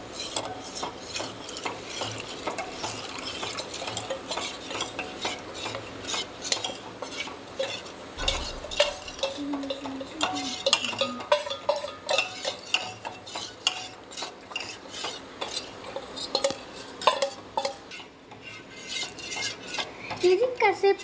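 A spoon stirs custard powder into milk in a pot, with steady scraping and clinking against the metal and a faint sizzle beneath, continuing with small pauses and no voices.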